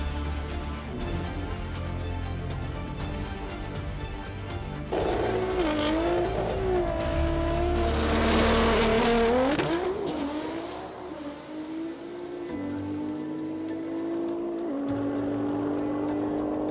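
A Nissan GT-R tuned as the UK's fastest, on its first run off the trailer, accelerates hard with rising engine revs through the gears and a brief tire squeal, loud and close throughout.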